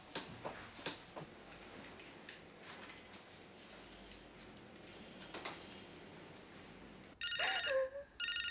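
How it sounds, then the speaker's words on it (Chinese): A telephone rings loudly with an incoming call, its bright repeated electronic tone bursting in over a quiet indoor room after several seconds of near-silence. "现在不方便接听电话"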